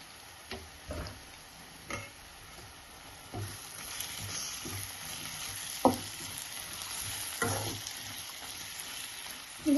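Lemon rice (chitranna) with onion, salt and chili frying in a pan, a steady low sizzle with several sharp scrapes and clinks of a spoon stirring against the pan.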